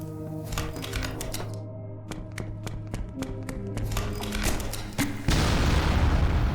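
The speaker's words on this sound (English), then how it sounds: "Wow, that is a huge explosion." A huge explosion goes off in the horror video game Poppy Playtime. A rapid series of sharp cracks and bangs leads into a loud, sustained roaring blast that fills the end of the clip, with no voices.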